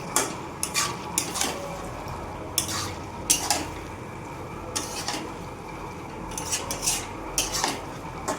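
Chicken fry being stirred with garam masala in a pan, a run of close metallic scrapes and clinks from a utensil against the pan over a faint background sizzle, with no voices.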